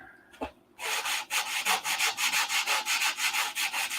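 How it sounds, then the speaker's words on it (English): After a brief knock, close rhythmic sanding strokes scrape over a balsa wood 1/2A Cobra model wing in fine detail work, about a dozen even back-and-forth rubs with no voices. "This is just detail sanding."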